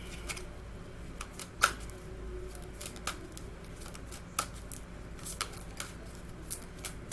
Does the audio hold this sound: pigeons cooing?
no